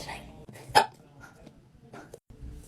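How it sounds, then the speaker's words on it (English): A person's sharp, sudden hiccup stands out close and loud near the start, with softer breathy throat sounds and a fainter catch before and after in an otherwise quiet room. "I literally hate the hiccups so much."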